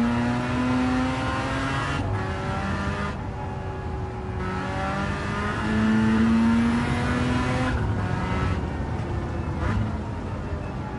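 Car engine revving hard with anti-lag, rising and falling revs that pause briefly between pulls, loud and close, with no voices.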